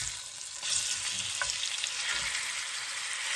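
Dried meat searing in two tablespoons of avocado oil in a skillet hisses in a strong, even sizzle that swells as it hits the pan and holds steady, close by, with faint scraping.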